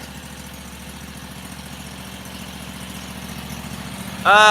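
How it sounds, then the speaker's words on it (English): A Harbor Freight Predator V-twin engine, fed from a jerry-rigged fuel can, idles steadily with a low, even rumble before abruptly surging to a much louder, higher roar at the very end. "Pretty dang sweet motor"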